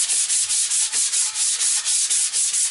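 Sandpaper rubbed back and forth along an axe handle being restored, a steady close-up rasping in about a dozen even strokes with no talking.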